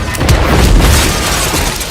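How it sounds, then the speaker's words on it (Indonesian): An explosion in an action film about dangerous prisoners turned into a special forces unit fills the whole stretch with a loud, dense, continuous roaring rumble and no voices. "tiba-tiba terjadi sebuah ledakan dan mereka pun terpental"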